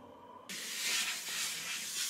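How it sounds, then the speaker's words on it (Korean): A Swiss Laurastar handheld steam iron used to press clothes lets out a sudden strong hiss of steam about half a second in. The hiss then carries on steadily and close after a brief quiet. "이제 옷을 다려야 하는데 이거는 제가 챙겨온 제품인데 스위스 프리미엄 다리미로 로라스타에서 출시한 핸디형 다리미래요"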